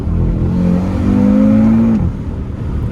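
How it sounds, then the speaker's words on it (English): An Audi RS3 fitted with a louder exhaust mod blips its revs on a downshift, a loud rising engine note that holds for a moment, then drops away into a lower drone. "when you catch the revs on the downshift, it's definitely a lot more, it sounds like it wants to go"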